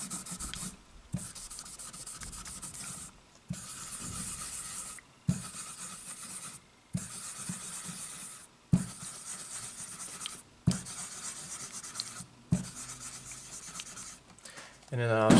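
Steady rubbing strokes on the finish of a 1970s Greco Les Paul Professional guitar, a soft close scratchy rasp repeating in regular passes broken by brief pauses, with faint talk in the background.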